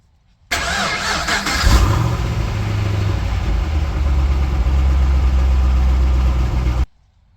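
An engine cranks and catches with a loud burst, then settles into a steady, deep idle rumble that continues until it cuts off.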